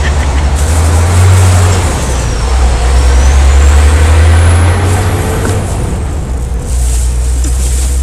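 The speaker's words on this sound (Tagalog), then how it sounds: "May mga sasakyan pa naman sa aking harapan." Heavy road traffic ahead, with a truck's deep engine rumbling close and loud, a sharp hiss of air brakes, and rising and falling whines from passing vehicles, steady throughout with no voices.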